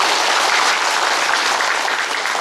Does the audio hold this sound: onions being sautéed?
no